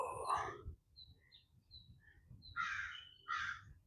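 Crows caw outdoors: one harsh call, then a quiet stretch with faint high chirps, then two more loud caws close together.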